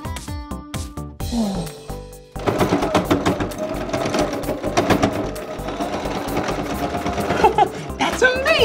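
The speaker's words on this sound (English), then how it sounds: "The needle is moving so fast and it's putting the thread in the clothes." A sewing machine runs steadily while a costume is stitched, its fast needle chatter continuous and close for several seconds after some brief clunks at the start.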